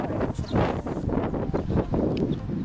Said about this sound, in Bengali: অনেক বাতাস আছে